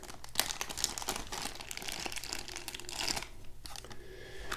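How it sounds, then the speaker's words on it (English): A small plastic zipper bag from a product unboxing crinkles and rustles up close, with quiet continuous crackling and a few sharper crunches throughout. "a little plastic zipper bag"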